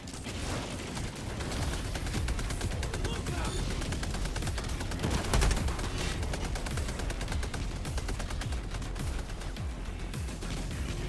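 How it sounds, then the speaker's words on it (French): Enemy artillery and automaton gunfire in Helldivers II roar in a dense, continuous barrage of rapid blasts and crackling shots, loud and unbroken, with voices talking over the din. "Attention, vous êtes à portée de l'artillerie ennemie."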